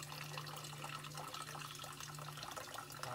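Water running into a container for the first pressing of coconut milk while cooking, a steady, soft splashing and trickling flow that continues throughout.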